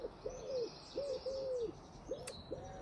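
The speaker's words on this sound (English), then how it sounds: "can hear the birds singing" Outdoors, a nearby bird calls in soft, hollow, cooing phrases, repeated in short bursts, fairly faint over a quiet background.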